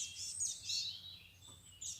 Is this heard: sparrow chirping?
yes